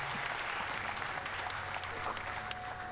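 Faint, steady applause from a small crowd, a soft continuous patter of clapping without any voices on top.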